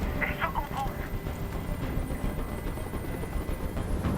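A helicopter hovers overhead in the Detroit: Become Human video game, its steady low rotor rumble and engine roar continuous and fairly loud, with brief tonal chirps near the start.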